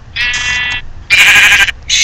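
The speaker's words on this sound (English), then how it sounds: "Shut up, sheep." Loud, close sheep bleats from Minecraft: two drawn-out wavering calls with a third starting at the end, no talking.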